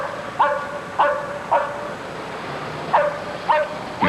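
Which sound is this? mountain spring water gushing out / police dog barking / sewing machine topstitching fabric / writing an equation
police dog barking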